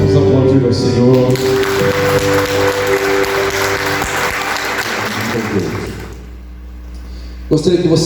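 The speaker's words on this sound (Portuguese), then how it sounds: "Vamos aplaudir ao Senhor." Congregation applauding during a church worship service, a loud sustained wash of clapping over lingering organ or keyboard tones, tapering off near the end before a brief thump.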